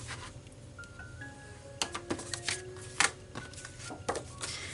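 Paper cards folded and creased with a bone folder, giving a series of sharp scraping and tapping strokes close by at an irregular rhythm, with no talk.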